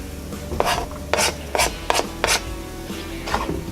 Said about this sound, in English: give that all a good stir around